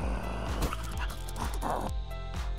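A puppy barks in a rapid series of short, high yips in a steady rhythm, close and fairly loud over a constant background hum.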